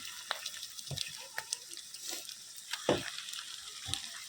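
Pieces of free-range desi chicken go into a pan of frying onions, with a soft, steady sizzle and scattered stirring clatter and scrapes, fairly quiet and close.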